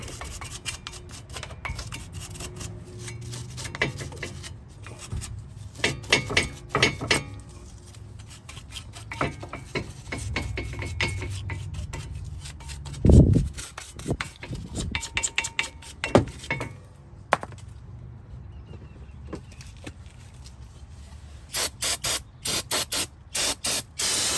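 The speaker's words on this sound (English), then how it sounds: "And then scrub these down a little bit." Front brake hardware on a 2007-2017 Toyota Camry is scrubbed with quick, close, rasping brush strokes and hissing bursts, irregular in rhythm, with a few metallic clinks.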